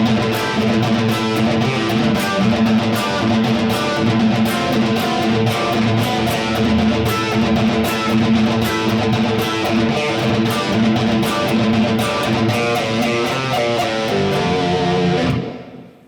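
An electric guitar plays a classic lick slowly through heavy distortion, a continuous sustained stream of picked notes that rings out loudly and then cuts off at the end.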